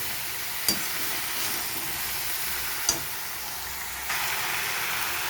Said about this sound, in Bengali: দিয়ে 2-4 মিনিট নেড়ে চেড়ে ভালো করে মিশিয়ে নেব